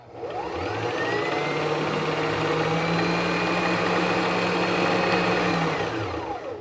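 A Singer 1234 sewing machine winds a bobbin with a steady, loud motor whir that rises in pitch as the pedal goes down, holds for about six seconds, then winds down. Nobody speaks.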